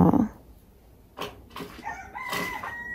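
A sick chicken makes a short, distressed call, followed by a few scattered soft sounds and a faint high tone in a quiet space.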